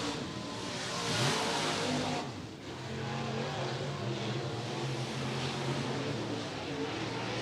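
Dirt late model race cars at an Ohio Valley dirt track roar together taking the green flag, a loud steady engine drone with rising revs, with an announcer's voice in the mix.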